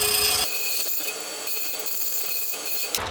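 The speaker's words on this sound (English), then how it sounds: "I'm going to file or grind each one just until it fits." Metal pieces for a beginner jewelry stand being filed, a short close rasping scrape that rubs steadily for about three seconds with a brief knock at the end, no talking.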